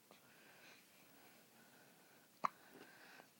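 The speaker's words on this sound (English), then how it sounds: "she gets so mad at those hiccups." A baby girl hiccups softly indoors, one sharp, distinct hiccup standing out amid quiet breathing and faint snuffles, with a weaker catch following shortly after.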